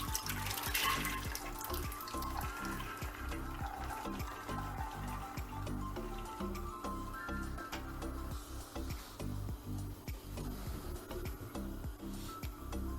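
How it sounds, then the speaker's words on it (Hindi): Continuous running water with a splashy, steady flow, like water poured or running into a pot, no voices, moderately quiet. "अब इसके अंदर पानी डाल"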